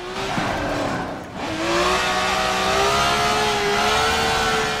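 A race car engine revs in Forza Motorsport 7, a loud sustained whine that dips briefly and then climbs back to a steady high-pitched drone, with a hint of tire squeal.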